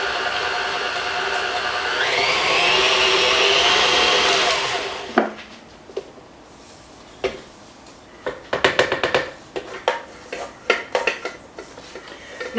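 Cupcake frosting being mixed, first a steady whirring mixer drone for about five seconds, then a run of scraping and clinking strokes against the bowl, loud and close with no talking.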